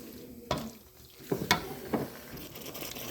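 A vegetable mixture for Chinese fried rice simmers and sizzles in a pan, a low steady bubbling hiss broken by several sharp stirring clatters of a utensil against the pan.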